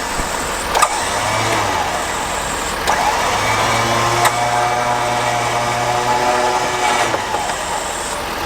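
A Ford factory Warn winch reels in cable with a steady mid-pitched motor whine over an idling truck engine, starting and stopping in short bursts with occasional clicks and clunks.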